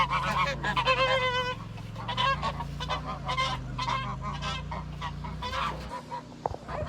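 Geese in a homestead goose pen honk loudly and repeatedly, several birds calling over one another in close, overlapping bursts.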